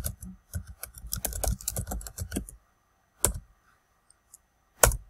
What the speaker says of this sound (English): And then you type in here.